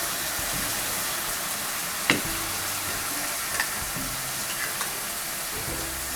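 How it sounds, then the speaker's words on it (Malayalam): Soy sauce goes into a stir-fry sizzling in a pan, giving a steady loud frying hiss with a few brief sharp pops and faint stirring clinks, no voices. "ഈ സമയത്ത് നമുക്ക് സോയ സോസ് ആഡ് ചെയ്യാം."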